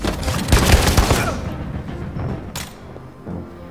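Gunfire in the video game Detroit: Become Human, a rapid burst of loud shots at the start that quickly dies away, followed by a quieter stretch with one more sharp report.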